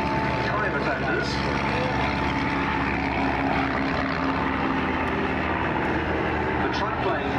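A triplane flies at the Duxford Air Show, its propeller engine making a steady distant drone that runs under an announcer's continuous commentary.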